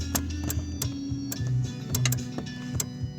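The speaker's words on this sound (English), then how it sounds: "I hear something clicking in there" Sharp mechanical clicks tick out irregularly inside the door lock of a 1993 Chevrolet Astro van, close by, over a low steady hum, about ten distinct snaps in three seconds.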